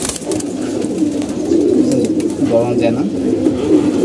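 Pigeons at a loft, including fancy breeds, cooing in low repeated rolling calls, steady and close, while someone talks over them.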